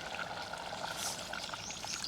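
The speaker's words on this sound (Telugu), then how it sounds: "ఇంట్లో కొంచెం వాటర్ వేద్దాం" Water pours steadily into a cooking pot of bottle gourd chicken curry with a continuous splashing rush, close and moderately loud, with no talking.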